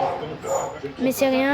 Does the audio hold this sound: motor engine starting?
no